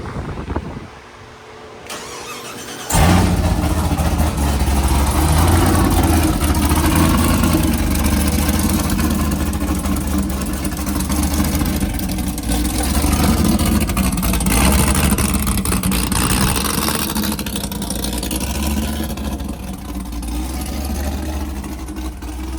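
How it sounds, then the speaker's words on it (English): A mini truck's engine fires up after a short quiet start, then runs loud and steady with a crackly, rumbling exhaust note and repeated revs, close by with no talking. "Man, that motor's crackly, guys."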